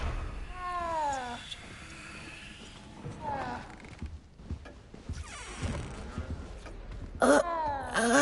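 A cat in a video game meows repeatedly, with a plaintive, wailing meow near the start and sharper cries near the end. Voices talk in between.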